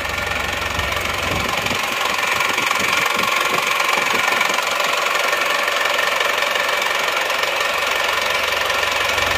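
Isuzu Panther diesel engine idling after repair of a broken rocker arm, a steady close rumble with a knocking tick running evenly throughout and no voices.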